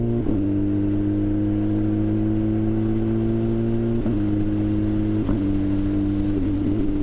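A turbocharged Suzuki Hayabusa motorcycle engine idles steadily up close, with a few short blips of the throttle that briefly raise the pitch before it drops back to a level drone.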